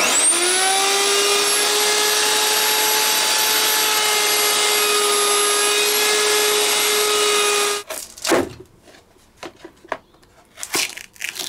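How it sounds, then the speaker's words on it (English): High-pitched whine of a router with a template cutter spinning and cutting wood in the neck pocket of a Fender Telecaster being restored, loud and steady for several seconds, then shutting off into scattered knocks and handling sounds. "I'm going to use the template cutter to route this to the neck pocket under it"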